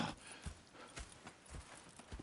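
Horse hooves clip-clop in the video game Red Dead Redemption 2, a faint, steady walking rhythm of soft thuds.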